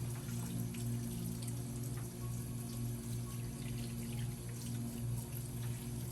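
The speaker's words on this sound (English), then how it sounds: "Make sure you turn your hot water on, run it." Hot water runs from a tap in a treatment room, a steady, soft rushing flow over a low background hum, with no talking.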